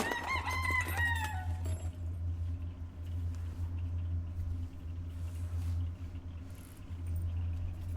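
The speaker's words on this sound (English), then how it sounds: "why is the chicken there?" A chicken in a sandbox video game gives a short burst of crowing and clucking at the start, then fades into a steady low hum with faint chirping through the rest.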